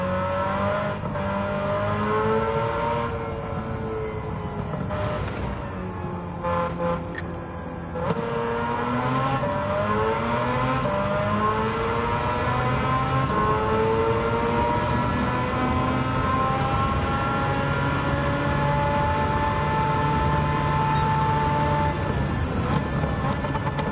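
Rotary-engined Mazda MX-5 on racing slicks lapping a wet track in Gran Turismo 7, a loud high-pitched engine note rising and falling through gear changes and revs, sustained throughout, with a voice speaking over it.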